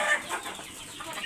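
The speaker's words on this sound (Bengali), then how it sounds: "এই যে ফার্মি মোরগটা, এর থেকে আমি প্রায় 8-9টা ব্যাচ বের করছি।" A farm-bred rooster of a good, hill-chicken breed, second generation, gives a few soft clucks, faint and close, in a quiet coop without talk.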